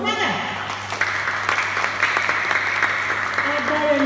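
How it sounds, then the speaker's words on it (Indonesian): An audience claps its hands at a school pottery-making event, a steady, dense burst of applause that carries on for about four seconds beneath some background voices. "Tepuk tangan dulu dong, semangat."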